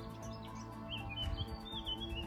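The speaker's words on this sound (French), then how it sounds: "tu entends les oiseaux, il y a un coucou au loin." Birds chirp and sing faintly in the open air along a bridge on a bike ride, with a cuckoo calling in the distance and scattered soft tweets over a low, steady background.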